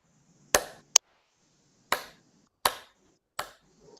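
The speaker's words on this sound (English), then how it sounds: "can you clap this rhythm for us?" Five sharp hand claps in an uneven rhythm, with two quick beats, then three more evenly spaced claps, loud and close in a quiet room during a performance seminar.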